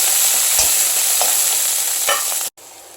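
Onion with green chillies and curry leaves frying in hot oil, a steady close sizzle with occasional stirring scrapes, cutting off abruptly near the end.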